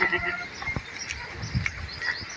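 On a goat farm, goats and young kids give a few short, faint bleats and rustles in quick succession against a quiet background.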